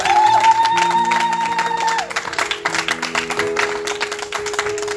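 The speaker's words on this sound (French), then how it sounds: "Pendant que tu es en train d'acclamer" Congregation at a Marian crusade church service cheering and acclaiming loudly over sustained organ or keyboard chords, a dense wash of clapping and voices filling the space throughout.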